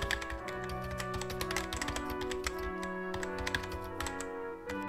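Fast, steady keystrokes on a computer keyboard as a C++ program is typed, close and fairly quiet, a continuous run of clicks with no speech.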